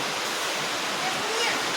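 Heavy rain falls in Hamirpur as a dense, steady, broadband hiss that fills the whole stretch with no breaks.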